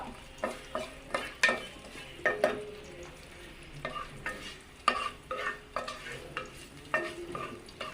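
Six halved garlic cloves fry in a pan, a quiet sizzle broken by rhythmic scrapes and taps of a spoon stirring them, repeated steadily over several seconds without speech.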